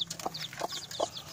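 Ayam joper hen clucking softly in her coop, several short low clucks spaced through the moment with light chirps between, close by and fairly quiet.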